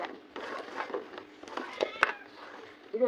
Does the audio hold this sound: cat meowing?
yes